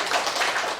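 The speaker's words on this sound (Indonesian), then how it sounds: "kasih tepuk tangan" Applause from students in a university lecture classroom: a brief burst of dense, steady clapping from a small group, fairly close and with no talking.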